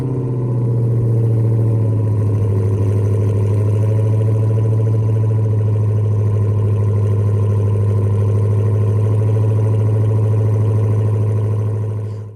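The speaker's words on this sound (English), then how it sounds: "Let's take a listen to the exhaust of that one as well. This is the Charger Red-Eye display, putting out 797 incredible horsepower." A Dodge Charger Red-Eye rated at 797 horsepower idles at a display, its supercharged engine exhaust holding a deep, steady burble, loud and close, unbroken for about twelve seconds with no one speaking.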